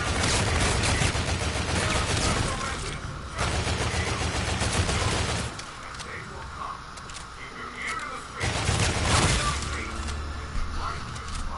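Rapid, dense bursts of Volk Retro gunfire roar in the Call of Duty Zombies in Spaceland map, loud and sustained with short breaks between volleys. Game effects blend in, and a voice is heard over the shooting.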